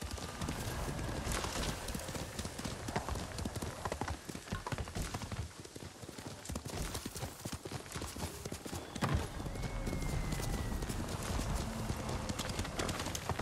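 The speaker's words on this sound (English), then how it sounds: "Oh my gosh, I almost rode a different horse." Horse hooves clip-clop in a steady galloping rhythm while riding in the video game Ghost of Tsushima, loud and continuous with brief whinnies, and no talk over it.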